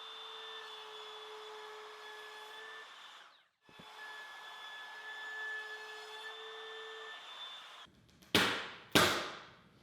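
A router cuts a car audio beauty panel, running as a steady whine, stopping briefly, then resuming before two sharp rising bursts near the end. The sound is close and unaccompanied by speech.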